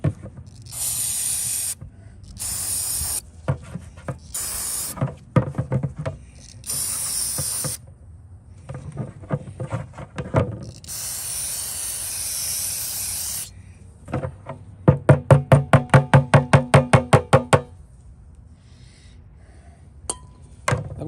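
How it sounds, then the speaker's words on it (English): A Troy-Bilt pressure washer air cleaner gets sprayed clean in short hissing bursts separated by pauses, then a rapid series of sharp sputtering pulses, close and loud. "I'm going to spray this a little bit more."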